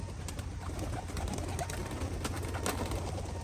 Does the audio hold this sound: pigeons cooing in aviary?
yes